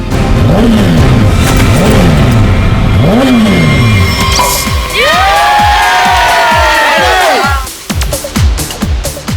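Motorbikes rev loudly at the start of a race, engines rising and falling in repeated swoops as a crowd cheers and shouts throughout, everything dense and close.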